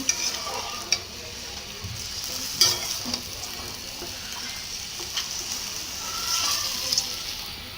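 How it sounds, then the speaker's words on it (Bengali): Beef lung bhuna being stirred and fried in a pan, with a steady close sizzle broken by occasional scraping stir strokes and clinks throughout. "আমি এগুলাকে হচ্ছে একটু নাড়াচাড়া করে দিব এগুলোকে একটু কষানো লাগবে ভালো করে"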